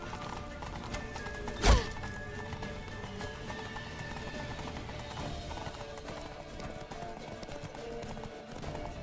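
A horse gallops in The Witcher 3 with steady hoofbeats beneath game ambience, and a loud sharp burst breaks in early on.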